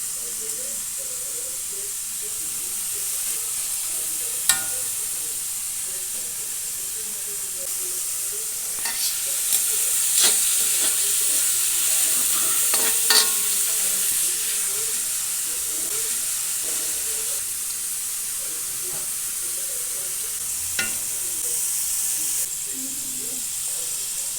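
Carrot, capsicum, raisins and cashews stir-fried in white oil for fried rice, giving a steady close sizzle throughout with scattered sharp clicks of a spatula against the pan and no talking.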